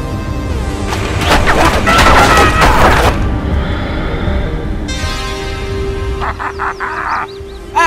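Gunfire from a gun in a Simpsons cartoon, a loud rapid volley of shots over about three seconds, followed by a humming tone and a few chirping electronic beeps.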